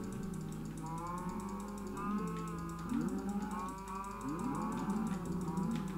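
Cows moo repeatedly in a video game farm setting, a series of low drawn-out calls overlapping one another against a steady game soundtrack.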